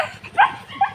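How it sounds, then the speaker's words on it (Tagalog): A dog gives two short, high yips or whiny barks, close and fairly loud. "may aso"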